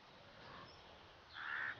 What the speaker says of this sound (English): like any place where you might hear a raven croaking like that